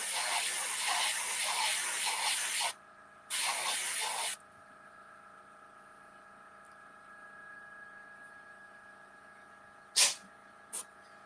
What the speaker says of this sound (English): Bless you, kitty cat.